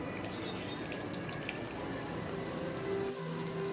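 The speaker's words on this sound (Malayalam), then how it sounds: "ഈ മീൻ വറുത്തെടുക്കാം" Fish frying in coconut oil in a pan, a steady close hiss and crackle of sizzling oil, constant and fairly quiet, with a short dip near the end.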